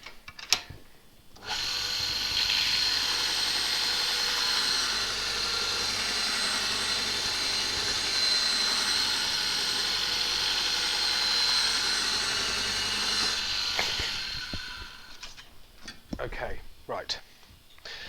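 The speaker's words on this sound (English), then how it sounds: "while I sharpen the gouge again" A woodturning gouge is ground on a sharpening wheel for a beginner's bowl, a loud continuous hiss and grind that runs for about twelve seconds, then stops, followed by light clatter and handling sounds.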